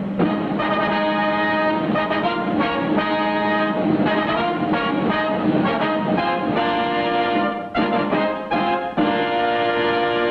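Steady whistle-like tones and music ring out from the Casey Jones Jr. circus train, a small attraction at Disneyland, loud and continuous and layered over a busy broadcast background throughout.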